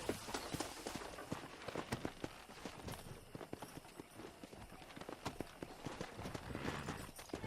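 Quick hoofbeats of horses trotting in the video game Red Dead Redemption clop along in a rapid, uneven rhythm, moderately close, with a faint background hiss and no talking.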